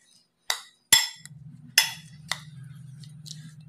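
A spoon clinks sharply against a bowl several times while salt and cumin are stirred into a mixture, a few separate taps followed by a steady low hum underneath.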